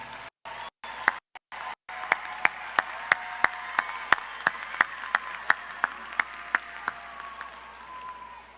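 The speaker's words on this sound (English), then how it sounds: "take a moment right now to give all of your family and friends one more round of applause" A graduation commencement audience bursts into sustained applause, many hands clapping at a moderate distance, with a few sharp individual claps standing out over the steady crowd wash.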